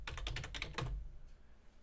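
A computer keyboard clacks in a quick burst of about eight keystrokes, close and crisp, before falling quiet.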